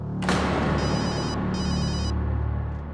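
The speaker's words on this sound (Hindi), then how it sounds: "रौनक का फोन आ रहा है।" A telephone rings in an indoor household scene of a Hindi family drama, a bright electronic ring in two bursts close by, over a steady low background hum, with no talking.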